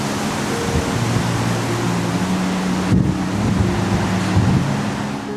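Rough sea pounds the rocky Hinomisaki coast in Shimane, Japan, making a dense, continuous roar of surf and wind that stays loud and close the whole time, with no voices.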